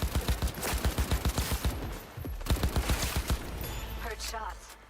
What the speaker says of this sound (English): Heard shots. You still alive?